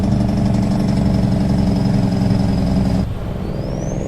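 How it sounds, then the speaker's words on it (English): An N14 Select truck engine runs steadily in American Truck Simulator, a loud continuous diesel drone with a faint whine, dipping slightly in level near the end. "We were actually running the N14 Select, which is a favorite engine that one always gets chosen in our live stream."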